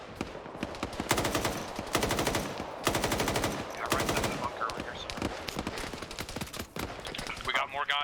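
Bursts of automatic rifle fire in a military shooter video game rattle out in rapid strings, several long volleys close and loud, with a voice speaking between and over them.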